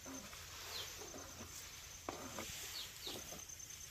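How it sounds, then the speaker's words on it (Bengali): Small birds chirp faintly in a quiet riverside spot in the morning, with scattered short, high calls over a low, steady background hush and no voices. "ছোট ছোট পাখি কিন্তু ডাকছে।"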